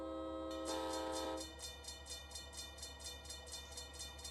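A locomotive horn in the Run 8 train simulator game sounds a long steady blast that cuts off after about a second and a half. The rhythmic clickety-clack of wheels on rail joints follows under a low engine rumble.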